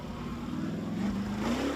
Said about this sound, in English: Bit of rev there through the mud.